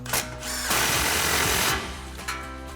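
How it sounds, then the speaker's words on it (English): An impact wrench with a 15mm socket runs in one sustained burst of about a second, tightening the last exhaust clamp on a Ford F-150 dual exhaust system. It is loud and close, with a short rattling tap before and after. "Impact 15mm socket, tighten that down."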